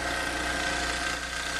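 A snow blower engine clearing a neighbour's driveway after a snow storm, a steady, fairly close mechanical drone with a constant hum and no pauses, alone without voices.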